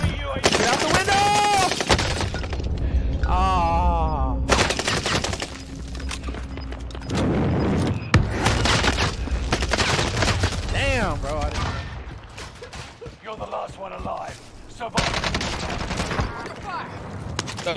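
Video game gunfire crackles in bursts of rapid shots and single cracks, loud and close, mixed with shouted voices and occasional breaking noises.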